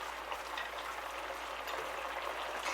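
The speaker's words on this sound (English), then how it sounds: "now that it's got straight back up to a boil again, now what we want to do is we want to turn it down to a simmer." A pot of lemon and rosemary chicken simmers just after coming back to the boil, giving a steady, soft bubbling and hissing wash that stays even throughout, with no talking.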